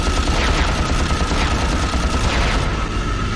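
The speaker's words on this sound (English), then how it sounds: "Apparently I should just blast them all is what I'm learning." Sustained blaster fire and explosions in Ratchet & Clank, a loud, continuous barrage of shots and bursting bombs with mechanical clatter, no voices.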